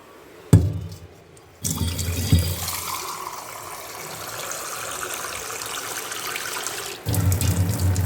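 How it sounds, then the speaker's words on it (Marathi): Water is poured in bursts into savory pancake batter, a gurgling, trickling stream filling a container, close by and fairly loud, with brief clatter at the start. "ह्याच्यात मी आणखीन पाणी टाकते थोडं"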